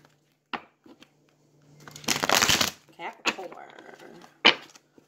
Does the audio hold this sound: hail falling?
no